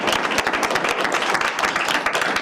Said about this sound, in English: Round of applause for Roland.